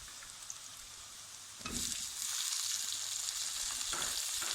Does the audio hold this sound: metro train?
no